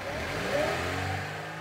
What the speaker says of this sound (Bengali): রোহন গাড়িও ছেড়ে দিল